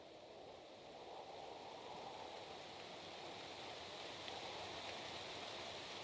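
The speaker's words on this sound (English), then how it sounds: "And in comes the rain." Rain in the strategy video game Songs of Syx, a soft, steady hiss of falling water that swells slightly and holds evenly without any talk.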